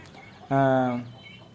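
A single drawn-out chicken call, loud and close, lasting about half a second against quiet background.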